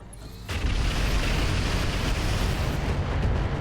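Dense, roaring mech weapons fire and explosions in a RogueTech battle near a minefield, a sustained loud barrage that starts abruptly and keeps rumbling without pause.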